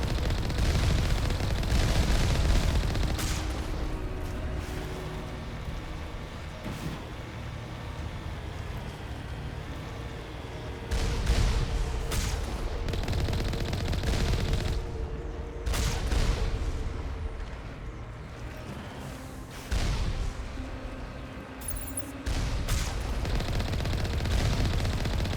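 Rockets and heavy gunfire strike around a vehicle under fire in Mass Effect, a dense, continuous roar of rattling blasts and explosions that stays loud for the whole stretch.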